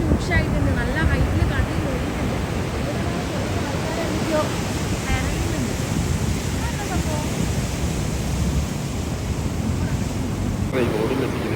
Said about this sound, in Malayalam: ഡേഞ്ചർ തന്നെയാണ് നന്നായിട്ട് കടല് കേറിയിട്ടുണ്ട്